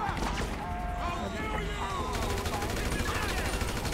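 Dense gunfire in GTA V fills a fight against police, with rapid overlapping automatic bursts and sharp cracks, loud and continuous, while a voice talks partly under the shooting.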